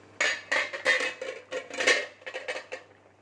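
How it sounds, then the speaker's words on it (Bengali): Metal lid lifted off a kadai of simmering lentil curry, a cluster of close, bright clanks and scrapes of metal on metal in several quick bursts, with no voices. "এবার আমি ঢাকাটা খুলে নিচ্ছি।"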